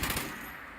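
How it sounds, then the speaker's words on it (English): Gunfire in Fallout 76: a short burst of rapid shots at the start that fades into a lingering noisy tail, brief and moderately loud. "This is the guy who's shooting me."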